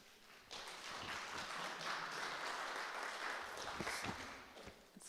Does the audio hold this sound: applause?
yes